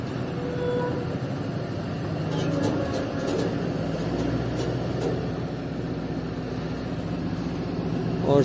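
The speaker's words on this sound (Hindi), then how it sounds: "और सेकंड दिए बगैर ही ट्रेन चलना शुरू हो गई है" Shaheen Passenger train pulling away, a steady low rumble of wheels and carriages with a few faint metallic clanks, heard from on board at moderate level.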